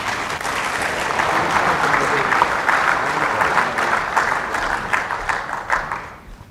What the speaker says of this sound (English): Big round of applause for these two young ladies.